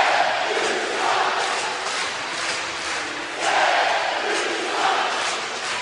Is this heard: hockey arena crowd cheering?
yes